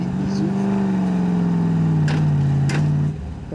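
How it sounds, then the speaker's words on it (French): A car engine strains hard at high revs close by, a loud sustained whine sliding slightly downward before cutting off abruptly near the end. "Pour ceux qui sont proches du véhicule, la mécanique qui souffre"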